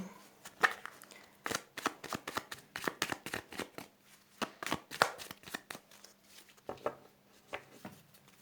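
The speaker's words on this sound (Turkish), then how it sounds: "Şöyle karıştıralım." Tarot cards shuffled by hand, a close series of quick, crisp riffles and slaps coming in uneven bursts over several seconds.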